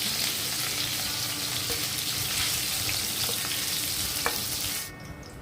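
Pieces of hilsa fish head coated in salt and turmeric fry in hot oil, a steady loud sizzle and crackle that continues throughout, then cuts off abruptly near the end.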